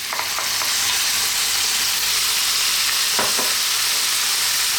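A tomato and potato stew with cumin is stirred in a hot pan, a steady close sizzle broken by a couple of soft scrapes of the spoon.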